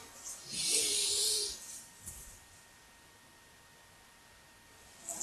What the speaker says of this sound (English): I had to have a yawn there